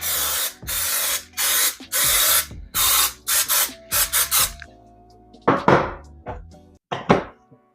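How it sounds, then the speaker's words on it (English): Cooking oil spray hisses onto a pan in a quick run of short bursts, about a dozen close, loud sprays, some brief and choppy, with a few quieter clicks and rattles between them near the end. "Just spray the pan."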